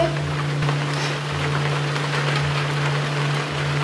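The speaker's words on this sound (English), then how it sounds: "It's raining. I open the window just so we can watch." Steady rain patters outside an open window, a soft continuous hiss of drops with a low hum underneath and no voices.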